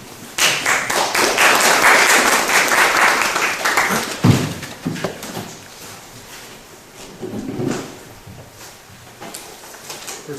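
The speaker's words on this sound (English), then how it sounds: "please welcome Furlane with applause" Audience at an urban design talk in Gwangju applauds to welcome the speaker, a burst of clapping that swells then thins into scattered claps, thumps and room noise.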